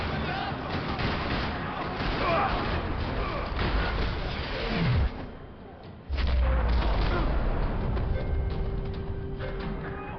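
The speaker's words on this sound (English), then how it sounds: "Another parking lot rattling with gunfire." Gunfire rattles through a parking lot in the video game Max Payne 3, with loud bursts of shots and booms that run almost continuously, dipping briefly before the shooting surges back.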